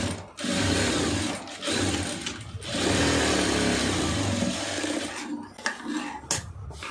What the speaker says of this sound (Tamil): இந்த டைமண்ட் மாதிரி போட்டுருக்கோங்க தையல் வந்து